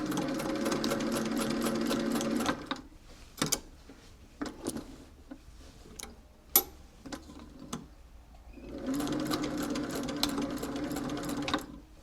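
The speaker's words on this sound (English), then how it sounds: "So you need to sew here and skip and sew here" A sewing machine backstitching a skirt seam runs in a fast, steady rattling burst, stops for a stretch of scattered clicks and ticks, then starts another continuous stitching run. Close and clear, with no talk.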